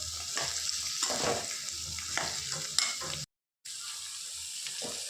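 Beans and onion frying in hot oil as a palya is stirred, a steady sizzle with scraping spatula strokes throughout and a brief dropout near the end.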